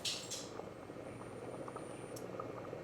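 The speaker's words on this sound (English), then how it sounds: "we're going to bring this to a boil" A pot of Hoppin' John approaches a boil, giving a faint, steady bubbling simmer with soft popping and gurgling throughout.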